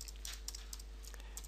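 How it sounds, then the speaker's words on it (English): Soft typing on a computer keyboard while entering a spreadsheet formula, a steady patter of light clicks over a constant low hum. "You just start typing VLOOKUP"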